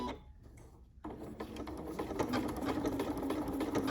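A Janome MC9450 sewing machine stitches around an applique, starting after a brief pause into a rapid, steady mechanical chatter heard up close.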